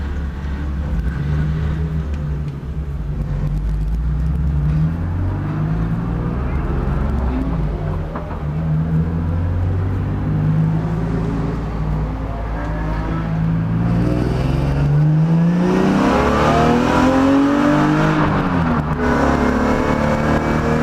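Car lapping the Circuit of the Americas track, heard from inside the cabin: a constant engine drone that climbs and falls through shifts and speed changes, loud and steady throughout, with a voice talking over it at times.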